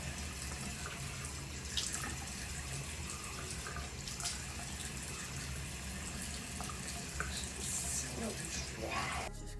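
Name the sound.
water running from tap to wet hair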